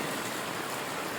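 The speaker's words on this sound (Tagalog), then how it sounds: "lakas ng ulan oh" Heavy rain pours steadily at night after dinner, a dense, even hiss of downpour with no break and no voices.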